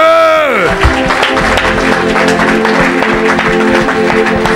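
Church congregation cheering and applauding for Jesus at a French-language worship service, steady loud crowd noise with clapping under sustained organ or keyboard chords and a voice over the top.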